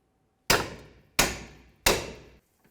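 A hammer strikes a pickle fork to separate a suspension joint on a 2002–2006 Honda CR-V, three loud, sharp metallic blows evenly spaced about two-thirds of a second apart, each ringing briefly, close up with no talking.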